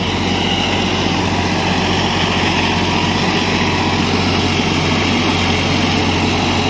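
Massey Ferguson Smart 9500 tractor, 58 HP, running a 10-foot rotavator at 1200 RPM: a steady, loud, continuous diesel drone with low rumble, heard close and alone throughout.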